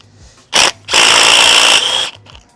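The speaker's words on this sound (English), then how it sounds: "you want to hold the actual bare metal rod and just impact it out." An impact wrench rattles a bolt free from the bare metal rod of a BMW G20 330i rear shock, a short burst followed by a longer sustained hammering run of about a second, loud and close, with no talk.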